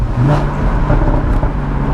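A Porsche Boxster GTS flat-six with a sports exhaust revs loudly and steadily up close, a dense, continuous engine roar with no talking.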